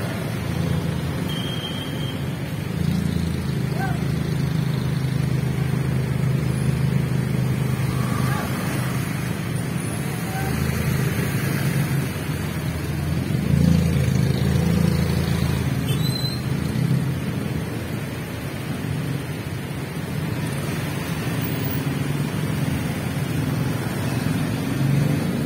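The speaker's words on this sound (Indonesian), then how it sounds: "Kemacetan di perempatan Pasar Putu dekat perempatan Jalan Magelang" Traffic jam at the Pasar Putu intersection near Jalan Magelang and Selokan Mataram in Sinduadi, Yogyakarta, before the fast-breaking hour: a steady low rumble of idling and crawling vehicles, with occasional louder engine swells and some faint voices.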